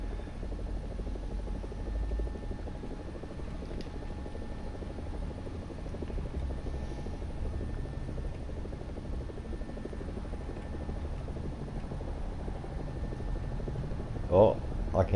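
Helicopter in the War Thunder video game, a steady close rotor drone and engine whine held evenly throughout, with a brief thump near the end.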